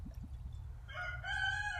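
A rooster crows once, nearby and fairly faint, rising over a low background hum after a few soft clucks, in a short burst with no talk.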